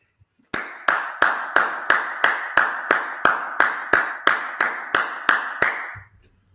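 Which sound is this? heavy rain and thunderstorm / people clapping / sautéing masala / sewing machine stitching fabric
people clapping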